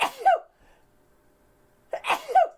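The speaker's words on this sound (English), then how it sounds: "gonna sneeze" Two sharp human sneezes, each a short explosive burst with a voiced gasp, separated by about a second and a half of near silence, close and loud.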